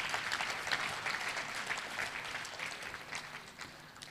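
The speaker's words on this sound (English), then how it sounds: "can we please give him another round of applause" An audience of pharmacists at a public lecture gives a round of applause, a sustained, moderately distant crowd clapping that holds steady and eases slightly toward the end, with no speech over it.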